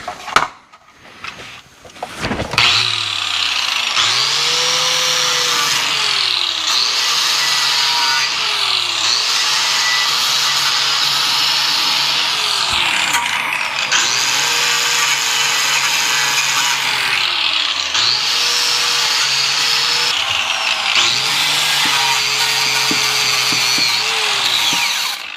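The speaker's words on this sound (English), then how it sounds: "the quickest way to do this is going to be with the grinder and wire wheel" Angle grinder fitted with a wire wheel scouring a Chevy Equinox muffler, a loud, continuous high whine with rising and falling pitch as the wheel bites and eases off in repeated passes, starting after a brief clatter.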